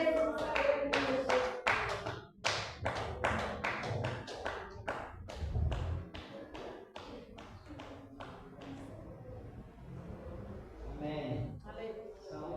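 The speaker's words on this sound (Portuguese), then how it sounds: "Você dá o servo do Senhor com palmas bem alegres para Jesus." Church congregation clapping joyfully for Jesus during a Portuguese-language worship service, a fast burst of loud rhythmic claps that fades into scattered clapping, with a voice speaking over it.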